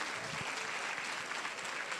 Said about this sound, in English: please, round of applause to one of another